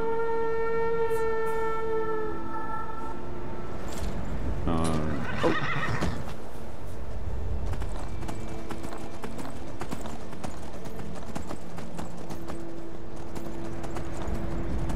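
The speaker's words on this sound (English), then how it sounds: "Let's call the horse." A horse in the video game Skyrim neighs loudly with a long whinny, then clip-clops and gallops steadily alongside game music and a narrator's talk.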